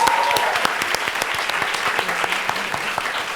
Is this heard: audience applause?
yes